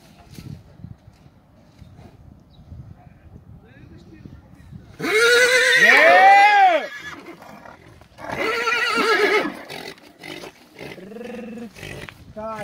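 A stallion at a breeding farm in Voitinel, Romania gives two loud, close neighs, the first long and the second shorter, with a fainter whinny later and quiet background sounds between them.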